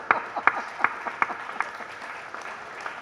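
An audience at a Hindi poetry gathering (kavi sammelan) claps, with sharp, fairly regular hand claps that gradually thin out, heard close and alone.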